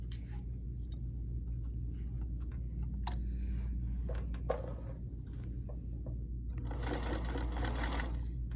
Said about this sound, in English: Now I'm going to go and sew my 1/4 inch seam that's going to encase that rough edge.